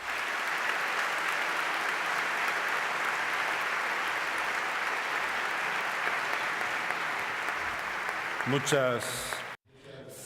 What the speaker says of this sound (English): we appreciate your applause after the video